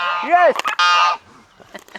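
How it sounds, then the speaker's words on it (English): Geese let out a few loud, nasal honks close by, a quick burst of calls followed by quieter scattered noises. "The geese are trying to interrupt me rudely."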